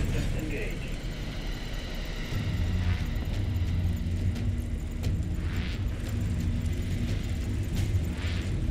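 An ACV vehicle in the MW3 Zombies video game starts up with a low, steady engine rumble. The rumble holds throughout and swells slightly after the first couple of seconds.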